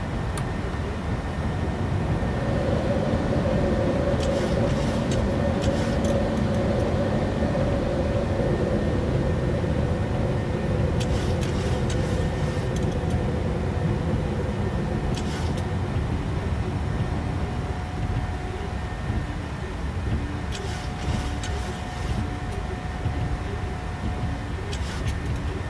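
A Norwegian airliner taking off and climbing in Microsoft Flight Simulator 2020, a constant, loud broadband engine roar with a low rumble that fills the whole stretch, with brief hissing bursts on top and no talking.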